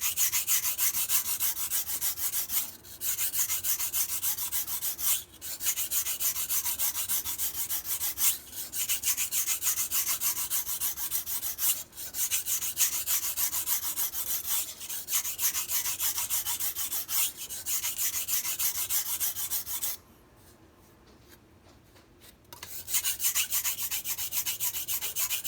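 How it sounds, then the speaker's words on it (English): A MAC chef knife is rubbed on a whetstone in repeated rasping strokes, about one every two to three seconds, close and steady, with a short pause near the end before the grinding resumes. "I have to sharpen a little bit more middle portion"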